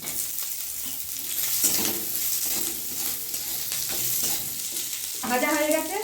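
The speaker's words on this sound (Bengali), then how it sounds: "কাজু কিশমিশটা নারকেলের মধ্যে দিয়ে ভেজে নেবো।" Cashews and raisins fry with coconut in a pan, giving a soft steady sizzle with stirring scrapes and a brighter burst of frying near the end.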